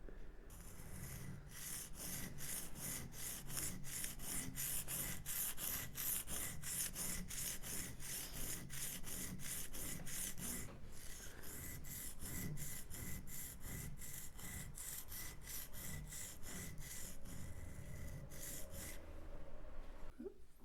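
A wood gouge is rubbed back and forth on a sharpening stone in quick, even strokes, each a short gritty rasp, repeating steadily and close with a brief pause partway through.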